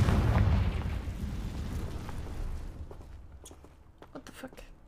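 A Confringo spell explosion in the Hogwarts Legacy video game, a loud rumbling boom that opens the moment and slowly fades, followed by scattered lighter crackles and pops.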